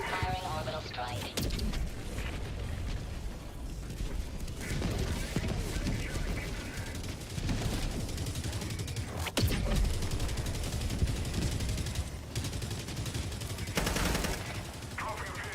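Orbital strike in the video game Helldivers 2, heard as dense, continuous gunfire and explosive bursts crashing through the mix, with voices talking under the din.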